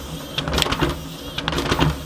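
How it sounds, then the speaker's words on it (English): Hand-cranked duplicator machine printing copies with a carbon master, rhythmic mechanical clacks and whirring as the crank turns, two clear bursts of rattling feed noise, close and fairly loud with no talk. "We push the button here to drop the paper, and we start to turn the crank."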